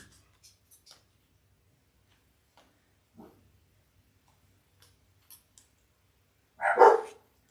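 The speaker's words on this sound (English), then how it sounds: "Oh, sorry for the barking dogs." A single short dog bark rings out near the end after mostly quiet, with a few faint ticks and clicks scattered before it.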